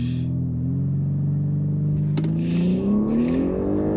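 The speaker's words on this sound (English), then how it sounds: "Let's see if launch control works" BMW G80 M3 launching hard with launch control: a loud, close engine roar with rising revs that climb steadily over several seconds, a brief shift-like break midway, then the pitch keeps climbing under sustained heavy acceleration.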